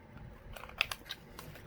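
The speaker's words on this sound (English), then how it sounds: "we're going to cut into the corner" Scissors snip into the corner of paper for a handmade mini album ornament, a few quick close cuts around the middle, faint and alone.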